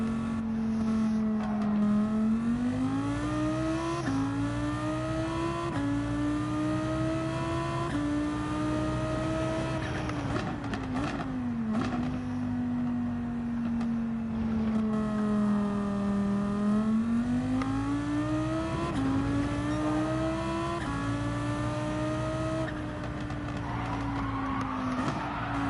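A Lamborghini racing in the video game Gran Turismo 7, its engine loud and continuous, rising and falling in pitch through repeated gear shifts and revs, with occasional tire squeal and no talk.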